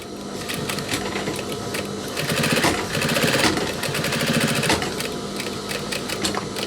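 Stitching the double seam of a denim jacket, a sewing machine hums and chatters in quick bursts with slight changes in speed, close and clear, with no voices.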